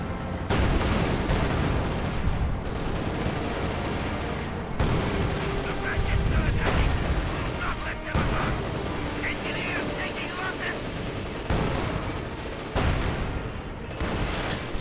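Gunfire and heavy field gun shots boom through a World War II strategy video game battle against a Panzer IV tank, loud repeated blasts and crackling fire throughout, with a commentator talking over it.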